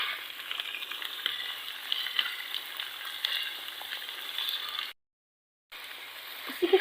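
Sliced potato and carrot with other vegetables fry in a pan for vegetable rice, a steady hiss of sizzling oil running throughout, broken by one brief silent gap near the end, with faint stirring clicks.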